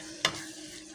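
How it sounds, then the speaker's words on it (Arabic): Water goes into a hot cooking pot of meat and tomato sauce for an okra tagine, giving one sharp sizzling burst that settles into a soft, steady hiss, with no voices. "هبتدي بقى احط شويه ميه"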